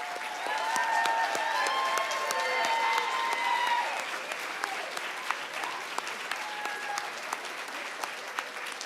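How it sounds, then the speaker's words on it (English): A big round of applause at a Montana State University College of Nursing pinning ceremony, dense steady clapping from a large audience with scattered cheers and whistles, easing slightly in the second half. "let's do another big round of applause for Great Falls and family."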